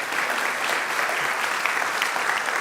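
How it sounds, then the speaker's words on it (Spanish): Congregation applauding in a church service, a dense, steady wash of many hands clapping together, sustained and even throughout with no pauses. "A big round of applause for the Lord there."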